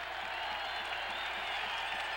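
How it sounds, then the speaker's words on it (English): Steady roar of a large outdoor football stadium crowd applauding a defensive stop, the Packers hosting the Bears in Green Bay in 1978, a dense unbroken wash of clapping and cheering throughout. "the crowd applauding the defensive work of the Packers"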